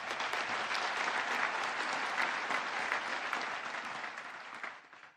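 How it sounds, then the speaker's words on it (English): A large audience at a George Brown Polytechnic convocation claps in dense, steady, loud applause that holds throughout and tapers off at the very end. "I think it deserves a round of applause."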